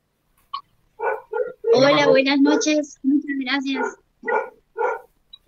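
A dog barks in short bursts indoors, mixed in with close conversation between several people.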